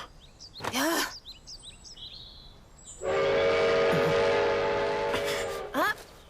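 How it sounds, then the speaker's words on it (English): A train horn blares in a long sustained blast, with shorter whistle-like tones before and after, over a low rumbling background, from an anime episode. "There's your train."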